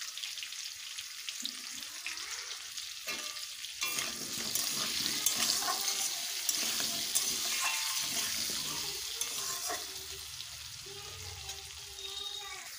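Potato pieces frying in oil seasoned with salt and turmeric give a steady broadband crackle with occasional stirring clatter. The sizzle swells after the opening seconds and holds fairly close and even throughout, with no talking.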